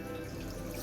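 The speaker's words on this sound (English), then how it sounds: "if you see, the water is now filling up" Water pouring steadily into an aquarium during a water change, a continuous close rushing and splashing flow with no breaks.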